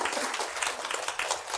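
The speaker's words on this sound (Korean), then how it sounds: "박수 한번 주세요." A brief patch of audience clapping during a study-method lecture in Busan, a steady crackle of hands at moderate level with no speech over it.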